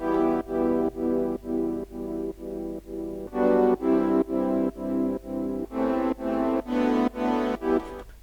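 Synthesizer chords from a stock Diva preset play in a steady rhythmic pattern of repeated stabs, getting brighter and louder toward the end as the filter sweeps upward, with no voices.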